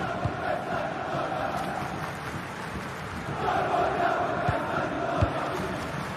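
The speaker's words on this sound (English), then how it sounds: "The crowd have really got behind them today." A stadium crowd in a football video game keeps up a continuous, full roar of cheering and chanting. A few dull thumps punctuate it, and the swell rises slightly partway through.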